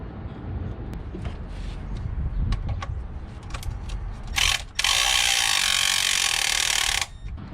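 A ratchet works a nut loose under a car, making scattered clicks and short bursts of rapid ratcheting close by, then one long buzzing run of about two seconds.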